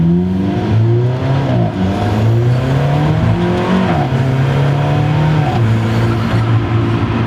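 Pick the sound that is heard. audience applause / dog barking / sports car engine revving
sports car engine revving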